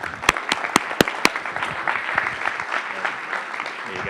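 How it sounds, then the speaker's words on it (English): An audience at a fintech awards summit applauds to welcome the CEO, opening with several sharp, separate claps and then settling into steady clapping from a moderate crowd. "So let's hear it for Saeed Hamidi, our CEO"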